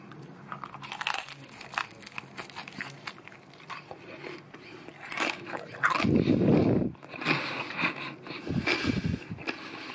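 Crispy crackling skin from a marinated Puerto Rican pernil roast pork shoulder crunches under a close bite, a dense burst of crackle in the middle followed by a few quieter chewing crunches.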